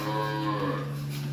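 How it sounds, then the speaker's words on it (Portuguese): A cow on a dairy farm lets out one sustained, close moo, a steady droning call that fills the whole moment. "Vocês acham que uma vaca dessa é boa ou não é, Vaqueiro?"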